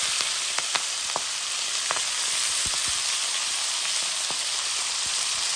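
Bread dropped into hot oil fries with a dense, steady sizzling hiss and scattered sharp pops and crackles, close and moderately loud, without any talking.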